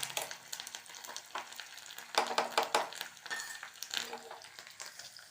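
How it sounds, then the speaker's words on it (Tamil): Hot ghee tempering of ginger, black pepper and cumin poured into foxtail millet ven pongal, a steady close frying sizzle with soft stirring and clinks of utensils throughout. "தாளித்து கொட்டியாச்சு."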